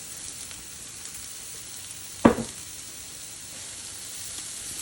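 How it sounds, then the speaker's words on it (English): Precooked bacon dropped into a pot of braising lentils gives one brief, sharp sizzling burst midway, rising over a steady low simmering hiss and fading back within a second. "And then we're going to add the bacon that we did earlier."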